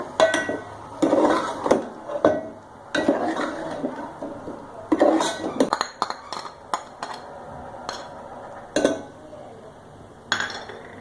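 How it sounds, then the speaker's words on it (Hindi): Ginger-garlic paste is being stirred and sautéed in a pan for bhuna gosht. A metal spoon scrapes and clinks against the pan in irregular bursts, close and fairly loud, with faint sizzling between the strokes. "अब इसमें ऐड कर देंगे जिंजर गार्लिक पेस्ट यानी लहसुन अदरक का पेस्ट और इसको भून लेंगे। इसके साथ सौते करूंगी।"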